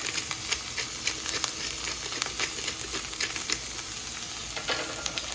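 Vegetables being stir-fried in a hot pan at home for a cioppino, a steady loud sizzle with crackling spatters and scraping stirs, no talking.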